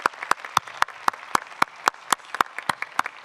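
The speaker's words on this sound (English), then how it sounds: "I think we can close this Q&A and applaud Cornelia" Sparse, crisp handclaps ring out in a quiet hall after a Goldschmidt 2023 geochemistry conference plenary talk. A few individual slaps land in a loose, fairly regular rhythm with near silence between them.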